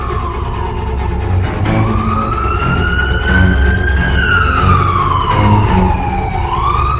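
A police car siren wails as it arrives at Crystal Lake, loud and close with long rising and falling sweeps over a low engine rumble, no voices.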